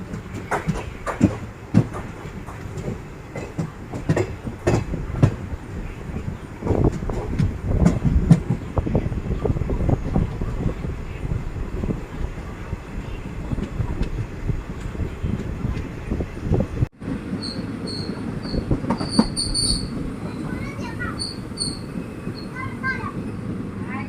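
A passenger train rolls along the rails in Kerala near Thrissur, a steady rumble of wheels and carriage noise with rhythmic clatter throughout, shifting to a higher, brighter tone midway with faint high squeals.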